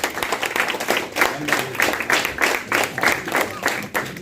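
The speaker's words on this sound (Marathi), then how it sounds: "त्यांच्यासाठी जोरदार टाळ्या होऊ द्या" Applause for teachers at a school and junior college award ceremony in Pune district, a dense run of hand clapping from an audience with rhythmic bursts, fairly loud and steady throughout.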